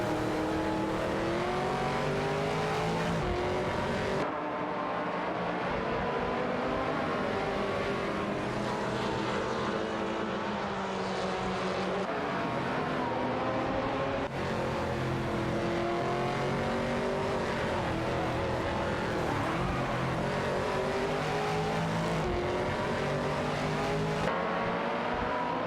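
Race cars in a sim racing game, Aston Martin Vantage GT4 and Ginetta G55 Super Cup machines battling for position, with a continuous loud blend of engine drones rising and falling as they accelerate and shift, steady throughout.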